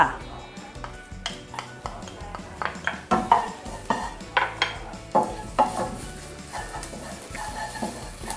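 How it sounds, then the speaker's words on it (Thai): Metal utensil scraping and clanking against a pan in an uneven rhythm while garlic sizzles underneath, close up, being stir-fried. "เราผัดให้กระเทียมหอมก่อนนะคะ"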